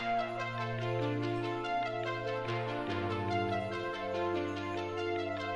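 A synth arpeggio is layered over a textural, sustained pad with a deep held bass note that shifts twice, the quick repeating notes steady and continuous, fairly soft and without voices.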